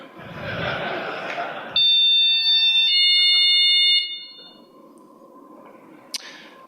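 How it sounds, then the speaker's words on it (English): An infrared motion detector alarm sounds as a loud, piercing, steady high electronic tone lasting a couple of seconds, preceded by a burst of broadband noise and followed by quieter background sound and a brief sharp click. "then the alarm will just continually sound"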